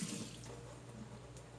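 Water runs from a tap while a Real Techniques makeup sponge is rinsed under it, a soft steady splashing stream with a slightly louder gush at the start and no speech.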